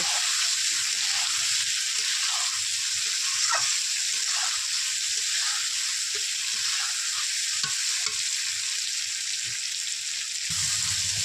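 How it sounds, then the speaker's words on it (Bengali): Eggs are sautéed in a spice masala for Bengali egg curry, a loud continuous sizzle and frying hiss with repeated stirring scrapes across the whole stretch, no voices. "দিয়ে ভালো করে ডিমগুলোকে আমি কষিয়ে নেব।"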